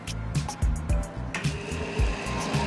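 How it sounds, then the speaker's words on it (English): A blender whirs on a slow setting while mixing egg yolk, a loud, steady motor hum with rhythmic pulsing chops, heard up close with no talk. "you add your yolk in the bottom of your blender"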